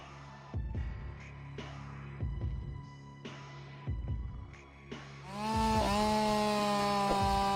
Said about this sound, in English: Just you, the saw, and the rhythm of clean cuts.